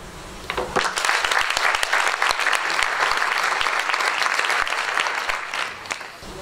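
Sustained audience applause after a conference panel on cooking a better future, with dense overlapping claps holding steady for several seconds, then thinning slightly toward the end.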